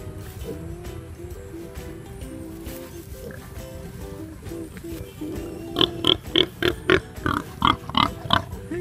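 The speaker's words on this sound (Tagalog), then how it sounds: "May baby baboy." Pigs and a piglet grunt on a farm, a low steady grunting through the first part, then a burst of sharp, loud, rhythmic oinks and squeals close by toward the end.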